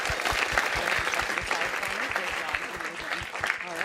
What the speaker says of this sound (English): One more round of applause here